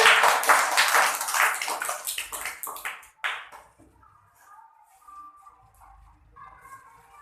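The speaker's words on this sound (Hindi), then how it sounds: "सभी लोग इनके लिए ताली बजाइए" A classroom audience of students claps for a classmate, a dense burst of applause that tapers off after about three seconds into quiet with faint murmuring.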